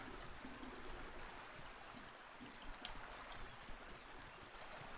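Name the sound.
loud water splashing in the video game The Isle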